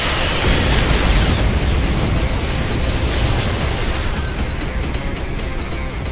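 A casket cannon explodes in the video game No More Heroes III, a loud, sustained booming blast that fills the clip with dense rumbling noise and no speech.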